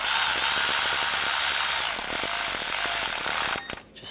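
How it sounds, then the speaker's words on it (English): A hand ratchet tightens a bolt on the oil pressure sensor bracket of a 2005-2007 Ford Five Hundred, a fast continuous metallic clicking close to the mic that runs steadily and then stops abruptly near the end. "I'm going to tighten this one down."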